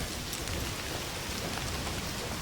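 Rain falls steadily in Indiana Jones and the Great Circle, an even wash of drops on surfaces with no voices, holding at a constant level through the short stretch.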